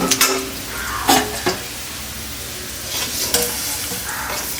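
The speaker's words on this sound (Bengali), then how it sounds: "এখন আমি আলু ভাজা শুরু করেছি আলু ভাজা শুরু করেছি তাই তো আলুটা আমি আগে একটু ভেজে নিচ্ছি" Potato pieces fry in hot mustard oil in a pan, a steady close sizzle broken by a few sharp clinks and scrapes of a spatula stirring against the metal.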